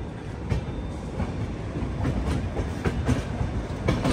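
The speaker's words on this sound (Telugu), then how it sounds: "లోకో ఏదో వెళ్తుంది, లోకో రివర్సల్ కి" A locomotive rolls past on its way to reverse at Visakhapatnam Junction, its wheels beating out a steady clickety-clack over rail joints at moderate volume, with no one talking.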